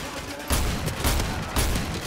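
Gunfire in Modern Warfare 2 Remastered comes in three loud, close bursts about half a second apart, each sharp blast over a low rumbling backdrop.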